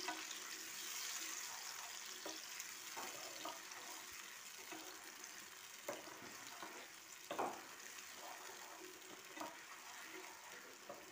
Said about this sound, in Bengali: আঁচটা কম করে আমি পেস্টটা ভালো করে নেড়ে নিচ্ছি।